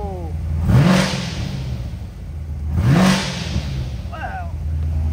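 A 2017 Corvette Grand Sport automatic with headers, cold air intake, X-pipe and a cam tune is revved twice while parked, each rev a loud, deep swell that falls back to a lumpy idle.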